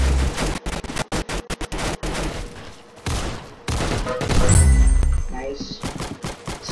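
Sniper rifle shots and rapid gunfire ring out in a Roblox shooter, a string of sharp close cracks followed by a louder burst and a deep boom.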